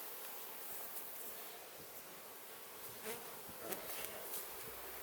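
Honeybees around a beehive, with a faint steady insect hum under light rustling and a few brief nearby buzzes.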